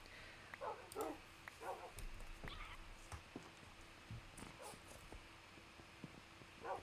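A dog gives a few faint, scattered barks from somewhere indoors, separated by quiet gaps and mixed with small household knocks, with no talking.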